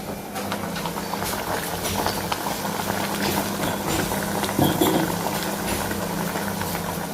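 Tamarind paste boils in a pan, giving a continuous bubbling simmer with a low rumbling undertone and a few louder pops. No voices are heard over it.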